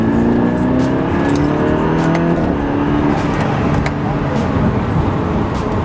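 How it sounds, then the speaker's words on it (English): A car's engine drones steadily at close range while driving on the way to a shop, its tone rising through gear changes and holding even; someone talks over it. "God, I love driving this car."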